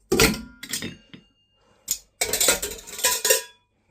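A vintage metal camping kettle, its lid and a frying pan clank and rattle as they are picked up and set down, with sharp metallic knocks in bursts separated by short quiet gaps, close and fairly soft.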